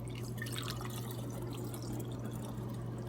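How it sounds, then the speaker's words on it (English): Water kefir grains being poured out, a continuous soft liquid trickle with light splashing and dripping, moderately quiet and without speech. "And then I pour the grains right out into the thing."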